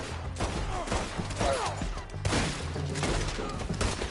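Rapid bursts of gunfire from the Red Dead Redemption 2 video game crackle in clusters across a few seconds, loud and close with some echoing shots.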